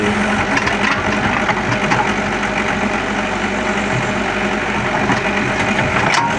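A tractor engine running steadily nearby, a low rumbling drone with a knocking pulse that stays even throughout, with no clear voices on top.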